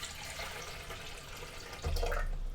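Water poured into the reservoir of a Lavazza Classy Plus espresso and coffee machine, a steady close splashing trickle that swells louder near the end.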